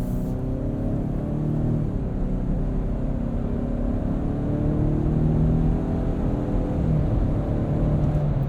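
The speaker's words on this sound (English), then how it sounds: "Ford's always done a nice job tuning their 4 cylinders to have like this meaty, throaty, guttural sound" Ford Explorer Timberline's 2.3-liter EcoBoost four-cylinder accelerating, a steady throaty, guttural engine drone with rising pitch, heard from inside the cabin with no talking.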